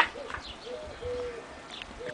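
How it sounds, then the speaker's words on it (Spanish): A pigeon or dove cooing softly in a quiet outdoor spot in Vall d'Uixó, a few faint, drawn-out coos heard alone against low background hiss. "Escuchamos por ahí una paloma."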